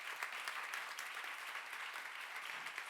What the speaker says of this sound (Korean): 지금 박수로 하나 돌리세요.